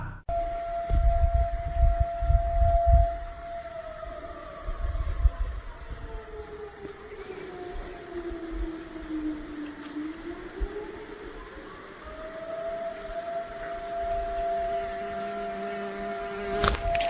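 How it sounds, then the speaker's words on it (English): A long, wavering air raid siren wails, its pitch sliding down and rising again, steady and fairly loud over a low rumbling background, echoing through the trees of a national park. "the stillness shattered by the wail of an air raid siren echoing through the trees."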